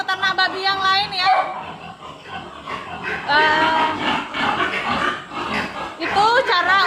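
A piglet has its tail docked. It squeals loud and shrill in repeated long cries, close up, while a person talks over it.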